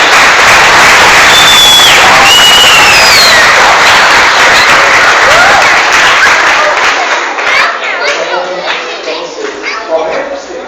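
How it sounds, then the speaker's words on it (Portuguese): Loud, sustained applause from a crowd at a Catholic prayer group gathering in Tambaú, São Paulo, Brazil, fills the whole stretch, with cheers and children's voices mixed in, gradually thinning toward the end. "Vamos dar uma salva de palmas pelos filhos."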